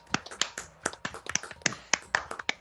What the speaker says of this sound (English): Everyone, please, a round of applause for our main man, Johnny.